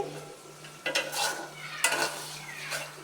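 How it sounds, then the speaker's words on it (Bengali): Onions, green chilies and tomato fry in a pan with a faint sizzle, while a utensil scrapes and stirs in several brief bursts over a steady low hum. "কাঁচা মরিচ পেঁয়াজ ভাজা ভাজা করতেছি সাথে টমেটো দিয়ে দিছি"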